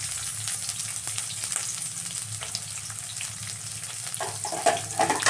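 Onion, garlic and ginger fry in hot oil for rice bath, a dense, even sizzle heard up close, with light stirring scrapes and a slightly louder crackle toward the end.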